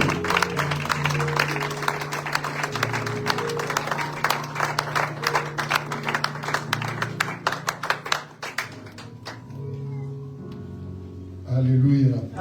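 A church congregation stands and claps and cheers to welcome the apostle, dense, lively applause filling the hall for several seconds and then thinning out, with voices calling out over it and a final spoken word.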